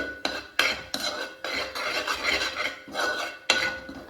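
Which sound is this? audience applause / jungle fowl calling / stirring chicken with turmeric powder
stirring chicken with turmeric powder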